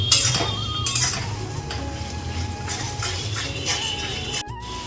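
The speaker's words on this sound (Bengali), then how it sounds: "মশলাটা ভালো করে কষাবো।" Spice paste with Kashmiri chilli powder fries in a pan for mutton curry, with a steady sizzle and repeated close scraping and clinking of a spoon against the pan.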